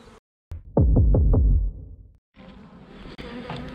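Honeybees buzzing behind a hive during orientation flights in an apiary, a near, droning hum with a few throbbing pulses, followed by a broader, softer wash of buzzing.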